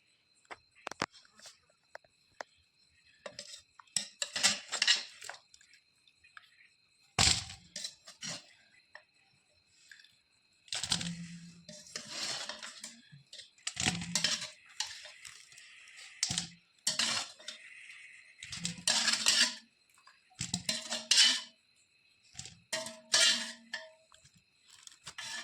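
Boiled potatoes being lifted out into a dish, with irregular clinks, clicks and scrapes of utensils against the dish in short bursts, fairly close, and a voice murmuring now and then.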